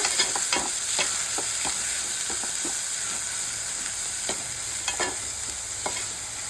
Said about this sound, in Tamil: இது சின்ன வெங்காயம். நல்லா கிண்டி விட்டுக்கிடுங்க.